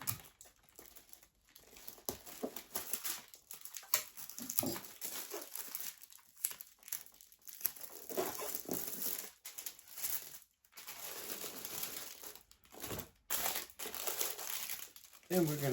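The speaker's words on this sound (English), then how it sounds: "Put a couple of pieces of tape back here to hold it." Pieces of adhesive tape being pulled and pressed onto a Valentine's Day grab-and-go package, heard as close crinkling and rustling in uneven bursts with a voice talking and faint background noise.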